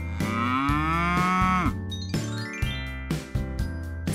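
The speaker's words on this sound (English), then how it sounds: "C is for cow." A cow moos loudly and close, long drawn-out lowing calls with a faint bell jingle between them, no talk.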